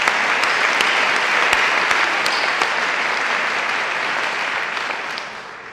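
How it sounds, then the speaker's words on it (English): Audience at an awards ceremony applauding loudly, sustained clapping with sharp individual claps standing out, tapering off slightly toward the end. "I think we need to give him a round of applause"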